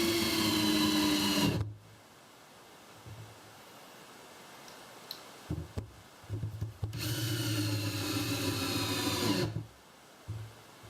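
A power drill tightens screws on a teardrop camper's roof vent fan, two loud whirring bursts at the start and again midway, with quiet handling rustles and small clicks between them.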